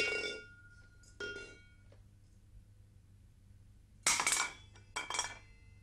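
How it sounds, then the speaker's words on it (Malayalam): Metal vessels clatter in a kitchen as one falls, with a sharp burst of clanging followed by a second shorter clash close by. Faint, brief clinks come earlier against a quiet room. "എന്താ വീഴുന്നൊരു ശബ്ദം കേട്ട്? അത് പാത്രം എടുത്തപ്പം."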